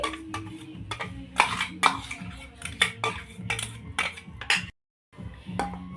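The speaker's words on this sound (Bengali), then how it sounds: "এবার একটা পাত্র নিয়ে নিয়েছি, তার মধ্যে ডালটা আমি নিয়ে নিচ্ছি" Ground lentil paste being scooped from a container into a bowl, with repeated clinks and scrapes of a metal spoon against the dishes, close and busy, broken by a brief silent gap.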